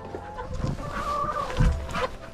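Chickens cluck and murmur close by in a chicken coop, several short calls overlapping against a low outdoor background.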